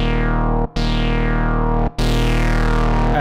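Novation Bass Station II synthesizer playing a sustained, buzzy distorted bass tone, loud and harmonically rich, cut by two brief gaps before it retriggers and holds.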